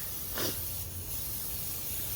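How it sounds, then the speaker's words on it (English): Olive oil cooking spray hissing onto a 16-inch vintage heavy iron pizza pan, one short close spray burst followed by a quiet background. "A little bit of olive oil spray."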